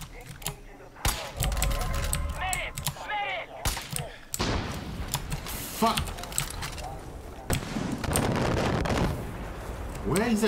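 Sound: mortar fire, from video game Far Cry 5

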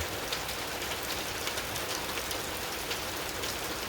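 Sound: water dripping from roof eaves

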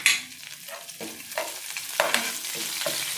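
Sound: frying spices in oil

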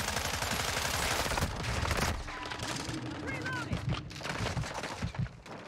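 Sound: gunfire in video game Modern Warfare 2

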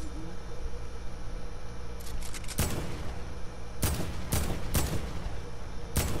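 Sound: gunshots in a video game

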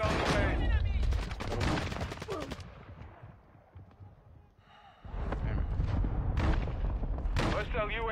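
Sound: mortar strike and gunfire in a video game

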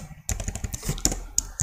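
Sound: typing code on a computer keyboard

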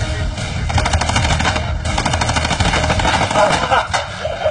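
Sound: paintball guns firing

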